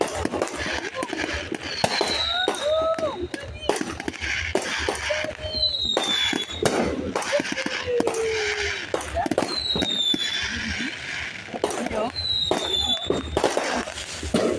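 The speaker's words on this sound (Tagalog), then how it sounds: "Fireworks." New Year's fireworks crack and pop in irregular bursts, some sharp and close, with whistling streaks rising between blasts and people talking over them.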